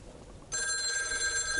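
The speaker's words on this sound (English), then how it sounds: "That fucking phone is always going off." A telephone in a video game starts ringing partway through, a loud, steady electronic bell-like trill that continues to the end after a quieter stretch of background sound.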